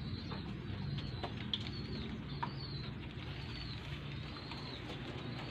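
Pigeons in a loft give soft, low cooing under a steady background hum, with occasional faint flutters and patters, no talk heard.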